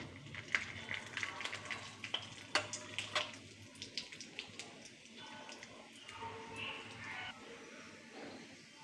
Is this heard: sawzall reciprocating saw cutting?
no